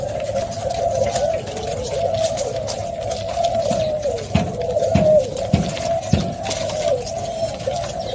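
Pigeons or doves cooing steadily in a trapping setting, a low repeated coo running throughout with a few louder close calls and soft background noise.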